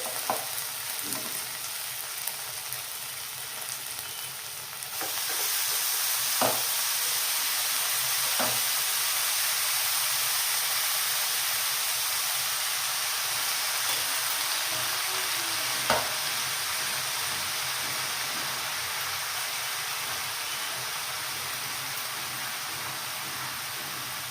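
Spinach frying with ginger garlic paste in a pan, a steady close sizzle and hiss that jumps louder after about five seconds, with occasional scraping clinks of stirring.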